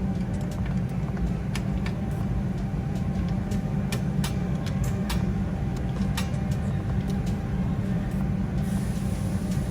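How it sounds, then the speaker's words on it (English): Handbrake shoes drag against the drum of a Holden HK/HT/HG station wagon as the wheel turns, a steady close low rumbling scrape with faint scattered ticks, continuous and without talk. "you can start to hear it now, they're starting to drag"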